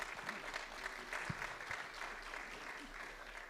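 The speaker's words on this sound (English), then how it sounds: "Would you give them a round of applause again?" A live audience at a podcast recording claps steadily for about three and a half seconds, a moderately loud, even patter of many hands, with a faint voice briefly underneath.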